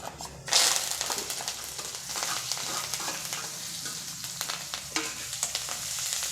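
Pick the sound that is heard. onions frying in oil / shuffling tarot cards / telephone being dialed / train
onions frying in oil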